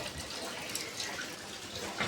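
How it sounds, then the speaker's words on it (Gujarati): Light drizzling rain falling steadily in the early afternoon, a soft, even wet hiss with faint scattered drips, close and continuous throughout with no voices. "એ ધીમી ધારે ઝરમર ચાલુ થયો છે"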